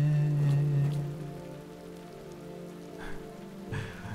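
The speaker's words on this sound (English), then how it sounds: "let's wait out the rain in the booth" Steady rain falling in the game Road 96, a constant soft wash of drops on surfaces with a low hum beneath and no talk.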